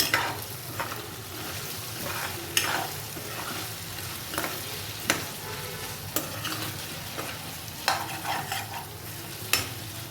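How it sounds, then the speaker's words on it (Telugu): Steady frying sizzle of taro root in a pan with occasional sharp scrapes and clinks of a utensil stirring the pieces, close up with no talking. "చామదుంపలు వేగుతున్నాయి."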